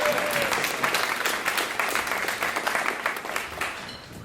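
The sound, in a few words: audience applause for jazz band musicians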